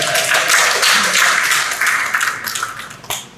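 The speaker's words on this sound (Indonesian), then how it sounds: "Tepuk tangan buat Labuan Bajo." Audience at a provincial government event applauding for Labuan Bajo, a dense burst of close clapping that thins out toward the end.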